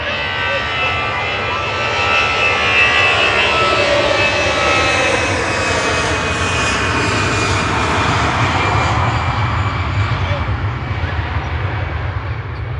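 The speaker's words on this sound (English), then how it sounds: "EZUK landed in parallel with the company departing on 23 left." Two aircraft on parallel use of runway 23 left at Manchester Airport, one landing and one departing, give a loud, sustained engine roar with a steady whine throughout, under occasional nearby talk.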